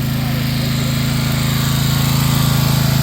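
A small home generator engine drones steadily with a throbbing low hum and a slight rise in pitch and loudness toward the end, as the idle control is switched off.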